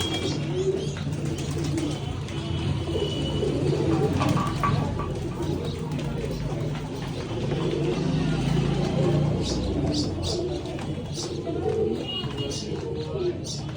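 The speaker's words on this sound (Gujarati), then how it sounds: "આપણે કબૂતર જોવા માટે આવ્યા" Pigeons cooing at a pigeon market, low steady calls running throughout amid crowd chatter and passing traffic, with a few higher chirps from other birds.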